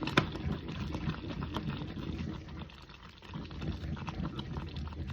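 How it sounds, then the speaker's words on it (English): A pot of grits being stirred, with soft wet bubbling and thick liquid churning, low and steady and fairly close, with a brief clink near the start. "I'm gonna give this a nice stir."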